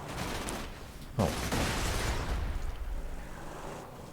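A bike exploding in the video game Borderlands 2: a sharp blast bursts out over ongoing gunfire and roaring game noise, then rumbling debris and crackle trail off. No speech.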